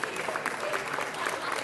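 Brief burst of steady applause from the gathered crowd in city council chambers, a dense even patter of many hands at moderate distance.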